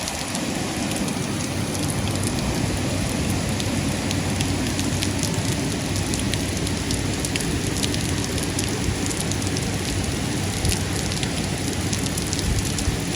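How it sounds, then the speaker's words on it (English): Heavy rain from the remnants of Hurricane Ida pours in sheets over New York City, a dense, unbroken hiss of water striking surfaces nearby, loud and constant throughout. "Now you got rain coming in sheets."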